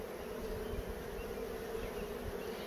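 Honey bees swarm around a Flow Hive in a soft, continuous buzzing drone, steady and fairly quiet, with no voices.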